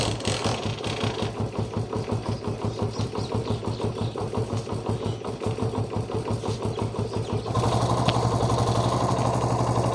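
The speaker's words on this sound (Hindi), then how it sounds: "तो अभी मैं बाइक को पहले स्टार्ट करता हूँ।" A Chinese 70cc motorcycle engine runs at a fast, steady idle, close and loud, its even putter rising to a louder, harsher note near the end.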